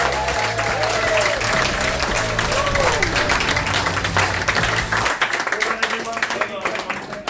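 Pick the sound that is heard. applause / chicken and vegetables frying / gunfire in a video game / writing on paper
applause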